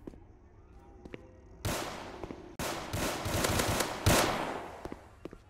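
Gunfire in a Roblox game, with several loud close shots and rapid bursts in quick succession over a quiet room background, no talking.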